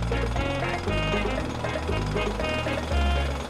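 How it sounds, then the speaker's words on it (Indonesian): Drilling into a grave in the video game GTA 5: a loud, steady jackhammer-like mechanical rattle runs continuously for a few seconds, with a low droning hum underneath. "Ngebor kuburan dulu kali ya."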